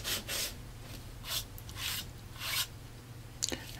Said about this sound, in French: Alors, on va continuer à poncer